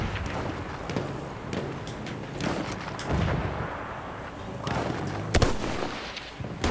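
Explosive rocket launcher fire and battlefield blasts in Battlefield 1, several sharp booms and crackling detonations scattered over a noisy war backdrop, one especially loud hit near the end.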